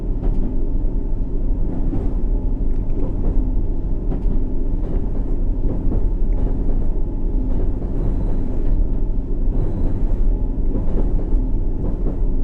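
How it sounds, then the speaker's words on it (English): Continuous subway train engine drone from a C77 or D78 Stock train in the game World of Subways 3, a loud, steady low rumble with faint rhythmic track clatter and no speech. "The engine, yeah, see, it is now a new sound."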